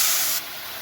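Ginger, cumin and coriander spice paste drops into hot oil, giving a loud burst of sizzling hiss that suddenly thins to a steadier, quieter spit.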